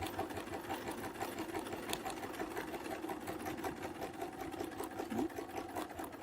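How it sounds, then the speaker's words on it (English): A sewing machine stitches steadily around a feather arrow quilt panel, a continuous close whir with a fine rapid needle rhythm running the whole time without pause. "I'm going to sew around."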